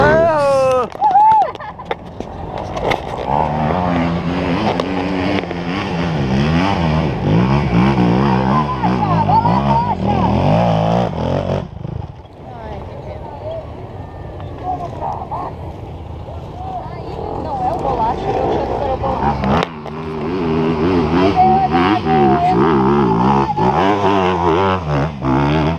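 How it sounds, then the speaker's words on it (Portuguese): Trail motorcycle engine revving and accelerating at an off-road trail riders' meetup, a loud sustained whine that rises and falls in pitch for most of the clip, with voices shouting over it. "Ô Gabineski, acelera."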